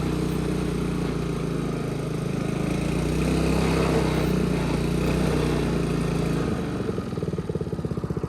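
A Honda HRB215 lawn mower, brought back after a no-start fault, runs loud and close with a steady engine drone that then winds down and sputters into slower pulses near the end, with no talking.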